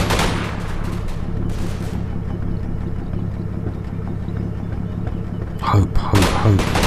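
Rapid gunfire rattles in a Combat Mission war game as shots are aimed at a building: a dense volley at the start, a quieter stretch with a steady engine hum, then more bursts near the end.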